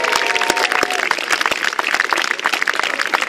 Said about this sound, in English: So please, I ask you, fill your lungs, give a massive cheer and a big round of applause for our Trebuchet master, Natalie, and her crew!